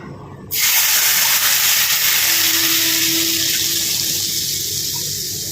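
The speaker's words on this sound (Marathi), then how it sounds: "ही तयार केलेली खमंग गरमागरम फोडणी लोणच्यावर ओतूया" Hot mustard-seed and asafoetida tempering poured over mango pickle gives a sudden loud, broad hissing sizzle that starts abruptly and holds steady, slowly easing, close by with no talk.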